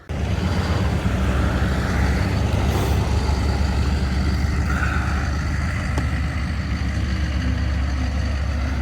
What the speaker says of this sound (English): The old damn truck there.